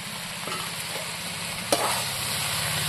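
Vegetable curry with bottle gourd leaves, pumpkin and potato sizzling steadily in oil in a pan, with a low constant fry and occasional stirring scrapes, no talking.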